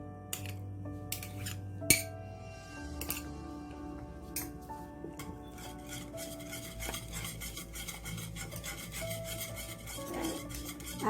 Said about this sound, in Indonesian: Aduk sampai rata, sampai kental ya ini ya.